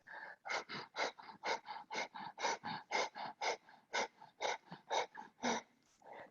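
Strong, forceful breathing held through a kundalini yoga pose: about twenty sharp, rapid breaths pumped in an even rhythm, close and loud, each a short airy burst.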